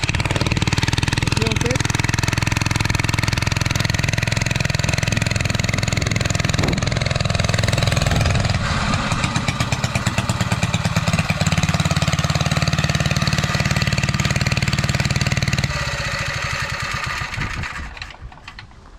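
A small kart engine runs loud and close for most of the clip, a rough steady drone with rapid pulsing, then winds down near the end.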